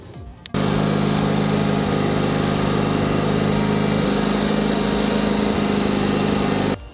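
An old lawnmower engine runs steadily and loud up close, a buzzing, humming idle with strong low harmonics that starts abruptly and holds for about six seconds before cutting off.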